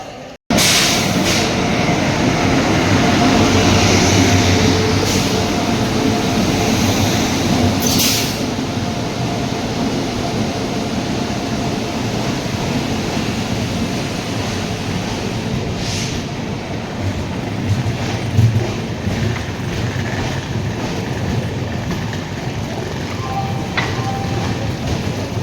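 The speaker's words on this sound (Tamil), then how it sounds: "ஃபைனலாக நம்ம ட்ரெயின் வந்துருச்சு" Express train pulling into Coimbatore Junction, a sustained loud rumble and hiss of the rolling train filling the whole stretch, with faint squeaks and clanks near the end and no talking.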